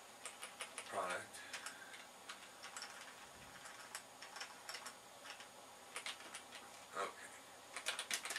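Thumb keys on a computer keyboard click as someone types, light irregular taps scattered through the stretch, with a brief spoken word and faint background noise.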